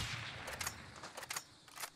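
Gunshots from a sniper rifle in Warzone, two or three faint, sharp reports spaced about half a second apart, heard distant and low in level over a steady background of game noise.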